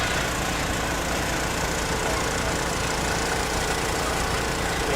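A steady, loud engine drone from a jet-powered flying machine at a flight festival, continuous and close, with only faint chatter beneath it.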